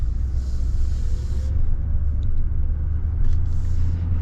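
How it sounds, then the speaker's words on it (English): A 2024 Chevy Silverado dually pickup with a Duramax diesel cruising along, a steady deep rumble of engine and road noise heard from inside the cab, smooth and unbroken. "The thing I love about the new Duramax is just how smooth it is."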